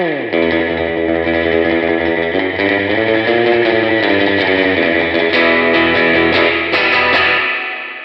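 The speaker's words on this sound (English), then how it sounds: "There's certainly a metallic ring to that reverb." An electric guitar plays sustained chords through a Blackstar IDX amp, with a bright, metallic reverb ringing and trailing after each strum.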